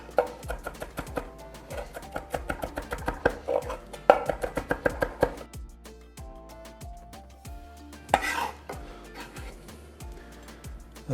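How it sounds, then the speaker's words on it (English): A knife smashes a couple of garlic cloves and then minces them on a cutting board, giving a close run of quick, sharp chopping taps with a few heavier thuds, alone with no talk. "Give it a quick smash. And we're going to mince it."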